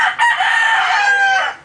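A rooster crows loudly and close by, one long sustained call lasting over a second with a strained, harmonic tone.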